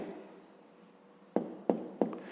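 Pen writing an answer on paper during a fifth-grade maths exercise: a soft scratching stroke, then three short, sharp taps or strokes close up, with no talking.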